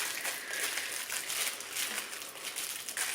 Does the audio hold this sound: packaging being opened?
yes